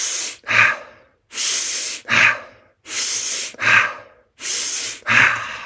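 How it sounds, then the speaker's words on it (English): Forceful breathing exercise for clearing the nasal passages, with four cycles of a sharp, loud sniff in through the nose followed by a hard exhale, close and regular with brief silences between. "when you're breathing in through your nose, it's like you're trying to sniff the world inside out"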